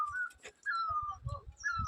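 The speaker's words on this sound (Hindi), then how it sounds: "चिड़िया की आवाज़ आ रही है आपको?" Bird known as myaved in Garhwal, Uttarakhand, singing clear whistled notes in repeated phrases, close and prominent, with soft household clatter and thumps underneath.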